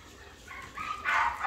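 Several dogs bark at a dog training ground, the yelps faint at first and then growing louder and sharper in short bursts toward the end.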